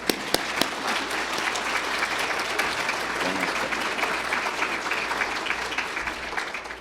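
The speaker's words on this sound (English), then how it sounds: "Applause for that." Sustained applause fills a roundtable lecture hall after a musician's remarks, a dense even wash of clapping that begins with a few sharp near claps and tapers slightly at the end.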